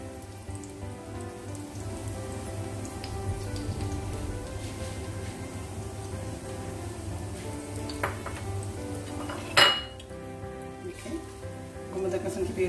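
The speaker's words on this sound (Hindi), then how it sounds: "हमारा प्याज अब आहिस्ता आहिस्ता ब्राउन होना शुरू हो गया है" Onions browning in a pan make a soft, continuous sizzle at moderate distance, with one brief sharp clatter partway through.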